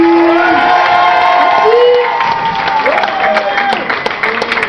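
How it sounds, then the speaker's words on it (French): A loud crowd cheers and whoops, with clapping mixed into the roar and some high shouts rising above it. "je vous demande un tonnerre d'applaudissements pour Cassie."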